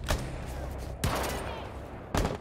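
Gunshots in a tactical shooter match on the Chalet map, three sharp cracks spaced about a second apart, with faint room noise between them.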